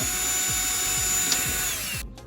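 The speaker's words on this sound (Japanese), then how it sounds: "次にやりたいのはもうドリルで出すしかないね。" A power drill runs steadily on a Mazda Savanna RX-7 FC during DIY bodywork, a continuous whine with rhythmic low pulses, then cutting off near the end.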